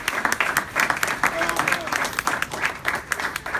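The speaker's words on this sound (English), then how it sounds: "Round of applause for the team." Audience clapping for a team being honored at an event at Google HQ, a steady patter of many hands with voices mixed throughout.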